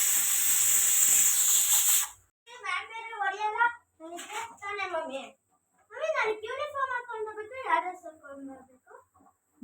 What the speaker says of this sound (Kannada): ಅಷ್ಟರಲ್ಲಿ ಕುಕ್ಕರ್ ಕೂಡ ಕೂಗ್ತಾ ಇದೆ.